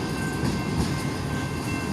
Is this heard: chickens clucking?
no